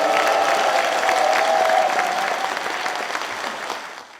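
In a Korean National Assembly TV studio, an audience gives a burst of clapping. It starts strong with a faint voice beneath it and gradually thins out.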